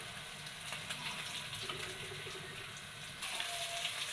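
Ayala mackerel frying in oil for a pickle, a steady broad sizzle and crackle running throughout, growing slightly louder near the end, with no talk.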